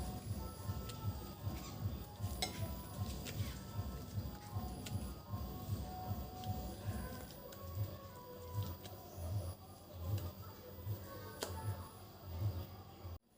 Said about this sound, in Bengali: দিয়ে এটা ভালোভাবে মিশিয়ে নেব।